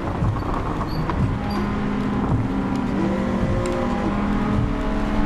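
A race car engine in Gran Turismo 7 holds a steady, loud, close drone with shifting tonal pitch through a race, with no talking.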